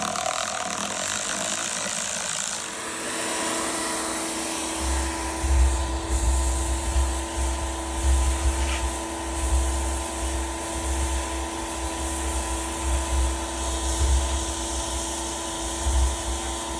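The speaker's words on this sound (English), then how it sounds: "So I've used the vacuum to suck out as much of the sand as I can." A vacuum sucking sand out of a Pentair Sand Dollar SD Series pool filter tank, a steady droning motor hum with a gritty, rumbling pulsing underneath, lasting the whole time.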